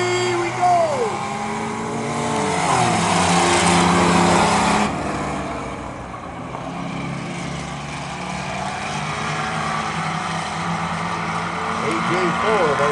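Racing trucks roar down the straightaway out of turn four during a qualifier, their engines loud and climbing in pitch as they accelerate in a continuous blur of overlapping revs.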